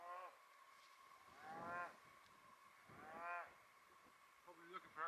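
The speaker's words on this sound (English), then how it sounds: "Trying to see what he's mooing about." A cow lows twice out on the open moorland of Dartmoor, each drawn-out moo rising and falling at moderate distance, with a quieter stretch of countryside background between calls and a brief rustle near the end.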